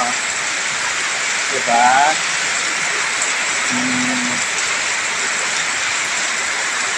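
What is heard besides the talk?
heavy rain pouring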